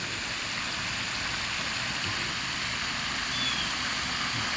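Water gushes steadily from a pond drain after the plug is pulled, a dense broadband rushing like a small waterfall, constant and fairly close.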